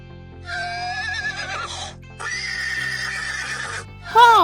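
Horse neighing over a background music track, two long wavering whinnies followed by a brief sharper squeal at the end, loud and close.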